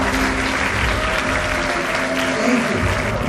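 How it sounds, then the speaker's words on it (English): Audience applause for committee heads and staff at a school jubilee gala evening, a dense, steady wall of clapping filling the room from start to finish. "Please give them a warm round of applause."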